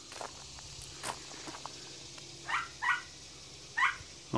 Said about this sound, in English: Oh, that little yappy dog in there is upset